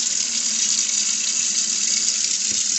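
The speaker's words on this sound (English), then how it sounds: "let me wash my hands again" Tap water runs steadily over hands being washed in a kitchen sink during holiday cooking, a loud, continuous close hiss with no pauses.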